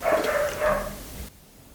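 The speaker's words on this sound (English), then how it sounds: "I'm just waiting for the dogs to stop barking." Dogs barking in the background during an indoor book-review recording, a couple of muffled, fairly close barks that cut off abruptly near the end.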